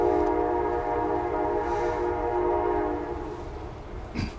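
A train rolls past with a loud, steady rumble and a sustained tonal horn or whistle throughout, followed by a sharp clack near the end; no one speaks.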